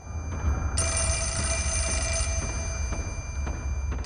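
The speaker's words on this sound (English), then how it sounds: "Oh great, the phone's ringing again." Telephone bell ringing in the Fatal Frame IV video game, a steady electronic trill that starts abruptly and holds loud and close for a couple of seconds before cutting off, over a low ambient hum.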